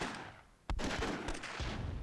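A grenade detonates in the Myth II video game amid ongoing battle: a sharp, loud blast cuts through a dense stretch of gunfire-like crackling and rumbling that continues steadily around it.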